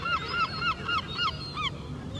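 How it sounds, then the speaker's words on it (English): Geese honking nearby in a steady run of about six loud, nasal honks at regular intervals over a low background rumble, with no speech. "Some right loud birds around here"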